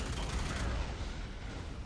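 A double-barrel shotgun fires in the video game Alien Rage, one heavy, booming blast with a rumbling tail that stays loud through the full two seconds.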